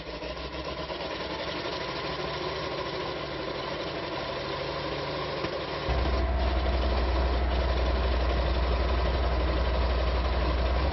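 M18 Hellcat tank destroyer, a World War II vehicle, with its engine running: a steady, rumbling idle that grows heavier and deeper partway through, loud and continuous with no talk.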